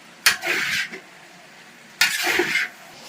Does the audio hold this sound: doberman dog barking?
no